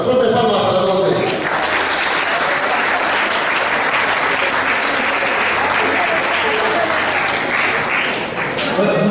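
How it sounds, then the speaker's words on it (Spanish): Loud, sustained applause from the audience for the panel at an international scientific meeting's roundtable on science and technology policy, dense clapping close by and steady for several seconds, with a voice speaking at the start. "Fuertes palmas para todos ellos."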